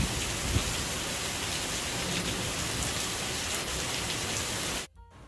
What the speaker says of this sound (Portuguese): E não é que pegamos uma baita chuva de granizo?